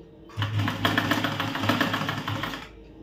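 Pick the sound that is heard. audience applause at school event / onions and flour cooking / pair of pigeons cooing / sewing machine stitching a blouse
sewing machine stitching a blouse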